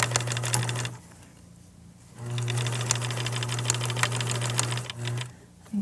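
Sewing machine back stitching a drawstring shoe bag, running in close, loud bursts: a short run, a pause, a long steady stretch, then a brief final burst.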